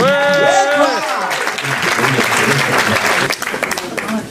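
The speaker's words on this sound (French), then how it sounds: "applaudissez s'il vous plaît Bertrand Grimet." An audience at a live stage show claps steadily and loudly, dense applause filling the space after a brief sung or spoken tone at the start.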